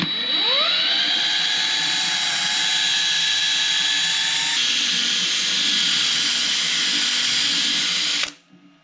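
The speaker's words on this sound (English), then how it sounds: "Just a little bit of polishing compound, a polishing tool" A handheld polishing tool buffs a hazed, scratched plastic 3D printer cover with polishing compound. A high whine spins up quickly, holds steady and close for several seconds, then cuts off abruptly near the end.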